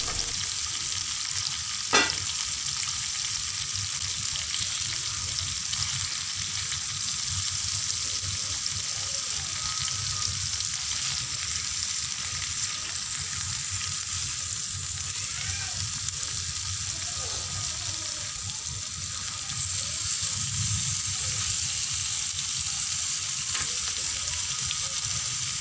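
Fish frying on a flat tawa sizzles softly and steadily, a faint continuous crackle with a few clinks from turning the pieces, and no talking over it.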